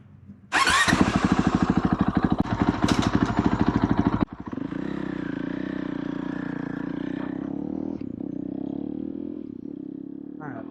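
A Honda CRF450L motorcycle engine cranks and fires up close, loud rapid pulsing at first, then drops into a steadier, slightly fluctuating idle as it warms up.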